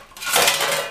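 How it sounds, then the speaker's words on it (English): A cast iron engine piston from an International Harvester tractor is set down into a metal junk pan, giving a single sharp clank that rings briefly and fades. "Yeah, I'm going to put it in a pan."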